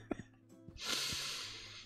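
A person imitates a character sniffing a wall: a couple of short nasal snorts, then one long, close, breathy inhale trailing off.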